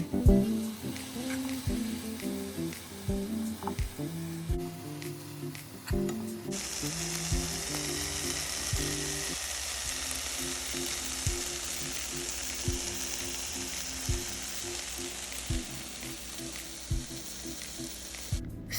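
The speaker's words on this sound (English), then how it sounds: "Now that our oil is hot on the pan, it is now time to fry the vegetables." Vegetables fry in hot oil in a pan, a steady close sizzle that surges as they hit the oil, with occasional stirring clatter and knocks over the hiss.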